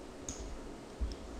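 A single soft computer mouse click, quiet and close, in an otherwise near-silent moment with faint background hiss.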